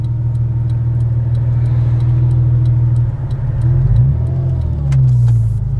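A Porsche Boxster engine idling roughly and nearly stalling, its low hum faltering and dipping briefly in a hiccup before picking back up, with faint ticking in the background.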